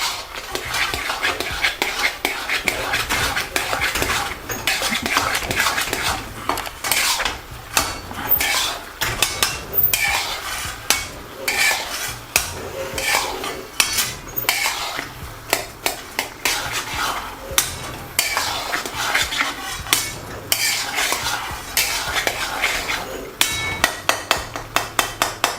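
Lamb keema in a karahi being mixed with spices and a touch of oil: a steady run of loud, close metal spoon scrapes and clanks against the pan, repeating rhythmically throughout.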